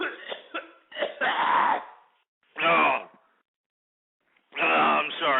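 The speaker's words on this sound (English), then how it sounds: "I don't mean to be coughing here" A winded radio host coughs and clears his throat in several rough bursts, with a pause between them as he catches his breath. The sounds are close and fairly loud.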